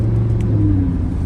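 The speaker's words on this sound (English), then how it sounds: "You can probably hear it already behind me making a" A 2015 Lamborghini Huracan 610-4 with a V10 engine revs loudly and steadily in a close, continuous drone for just over a second, with no talk.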